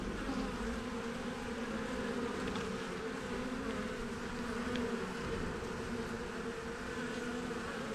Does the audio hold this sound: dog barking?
no